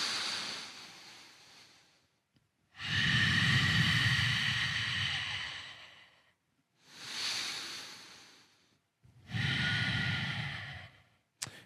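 Slow, deep breaths during a yoga-style warm-up for deadlifts: three long, airy inhale-exhale cycles, loud and close, each separated by a brief pause, with no speech.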